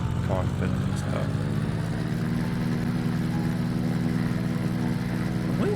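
A plane engine in a pixel art flight sim video game hums in a steady low drone with a buzzing tonal quality, continuous and even, with brief voice sounds over it.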